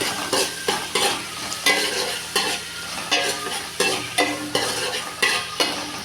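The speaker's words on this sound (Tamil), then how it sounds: "தக்காளியை போட்டு நல்லா வணக்கிக்கலாம்" Tomato and onion fry in a pan with steady sizzling, broken by repeated bursts of stirring that recur every second or so, close and fairly loud with no talk.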